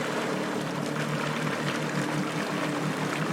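A Waverunner jet ski idles forward on the water, its engine giving a steady low rumble under a broad, constant wash of churning water, close and continuous, with no talk.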